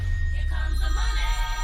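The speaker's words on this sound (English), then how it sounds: "Oh my god, that's a phone call." A telephone rings with a steady electronic tone over a low background hum, brief and with no voices.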